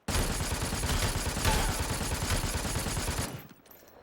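Sustained automatic fire from an M4 rifle in the video game Super People, a continuous rapid rattle of closely spaced shots lasting over three seconds before cutting off abruptly.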